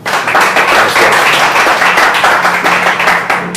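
Loud, close applause for guest runner and marathon champion Víctor Amaya on a podcast, a brisk dense burst of many hands clapping that continues evenly to the end.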